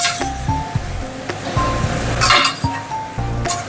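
Leafy greens being stirred and tossed in a cooking pan, with sharp, irregular clinks and scrapes against the pan and a soft sizzle underneath, close and fairly loud.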